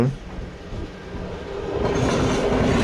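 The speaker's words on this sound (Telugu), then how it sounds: "అటు పక్క ఏదో ట్రైన్ వెళ్తుంది" A train rolls past close by on an adjacent track, a loud rumbling roar with rhythmic clatter that builds and grows steadily over a few seconds.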